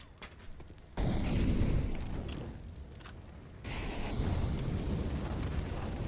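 Grenade and molotov blasts in a Counter-Strike match on the Vertigo map, a loud burst of explosions followed by sustained roaring fire and rumbling booms, with no talk over it.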